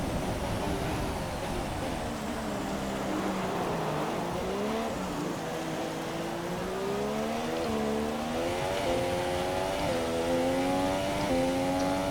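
F1 race cars from the F1 2017 video game scream around a wet Monza track in a no-assists race, the engine note rising and falling through gear changes, loud and continuous with a wash of spray noise.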